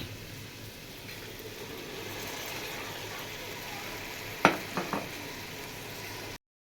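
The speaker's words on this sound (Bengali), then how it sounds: "এখন দিয়ে দেব সস।" Sauce poured onto already-fried vegetables in a hot pan for fried rice, giving a steady close sizzle with a sharp hiss and a few clicks as it lands, then settling back to frying.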